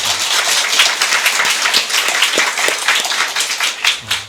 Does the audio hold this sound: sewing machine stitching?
no